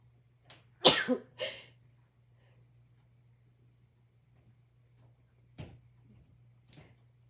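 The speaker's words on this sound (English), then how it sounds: "Oh, I'm going to sneeze." A single sharp sneeze bursts out near the start, followed by quieter breathy sounds and a couple of faint later clicks in an otherwise quiet room.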